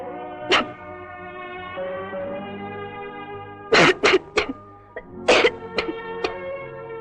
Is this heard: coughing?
yes